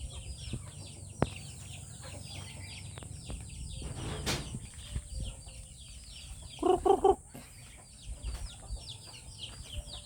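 Chickens cluck in a busy coop at feeding time with steady background noise, and a brief louder burst of squawking breaks through midway.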